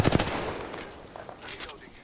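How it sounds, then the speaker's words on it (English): Apex Legends gunfire: a quick burst of rapid shots at the start, then a few scattered cracks over the next two seconds, close and fairly loud. "Shots fired at me."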